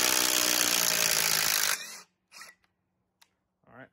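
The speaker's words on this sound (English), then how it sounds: "Let's pull them out with the Ryobi and then put them back in with the Ryobi." A Ryobi impact driver backs out pre-drilled lag bolts in one loud, continuous burst of nearly two seconds that cuts off abruptly, followed by near silence with a few brief, faint handling noises.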